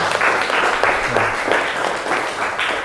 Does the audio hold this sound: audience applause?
yes